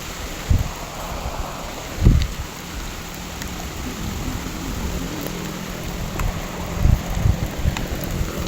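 Heavy, steady rain hisses over a wide area at Quezon Protected Landscape in the Philippines, with occasional low thumps and rustles from nearby; no voices are heard.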